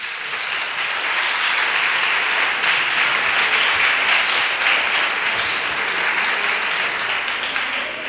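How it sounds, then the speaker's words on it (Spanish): An outdoor street audience in Sorihuela del Guadalimar gives a loud applause for a local singer, dense continuous clapping that swells and holds steady with no speech. "Un fuerte aplauso para él."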